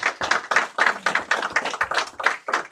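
An audience at a community meeting claps in a steady, rhythmic beat, about three claps per second, close and fairly loud.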